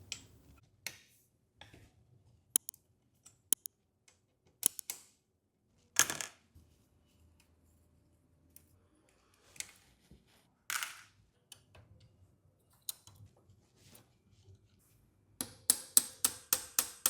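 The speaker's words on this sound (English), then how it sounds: "I'll use my 8mm hex T-wrench to get this axle bolt off on this side" An 8mm hex T-wrench loosens the front axle bolt on a Surron Ultra Bee supermoto, giving sparse, close metallic clicks and ticks separated by quiet gaps, ending in a quick run of rapid clicks.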